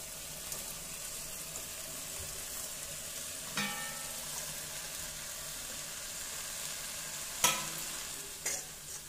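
Chilli parotta pieces roasting in oil in a pan give a low, even sizzle, broken by three sharp scraping strokes of a spatula spaced several seconds apart, close but fairly quiet.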